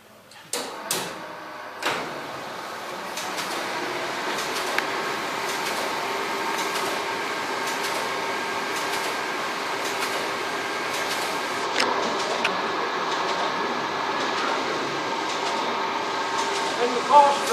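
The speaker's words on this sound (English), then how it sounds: "we're going to shut up and run the machine" Rebuilt Bombe codebreaking machine running at Bletchley Park, a steady mechanical whir and rattle with sharp clacks near the start and occasional clicks, continuous and fairly close.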